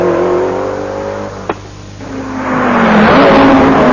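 An Audi rally car engine roars steadily nearby, swelling louder toward the end with a brief sharp click in the middle.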